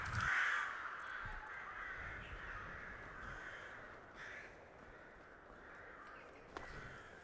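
Crows in Skyrim give loud, harsh caws near a river, the calls repeating and overlapping across several seconds above a constant background hush.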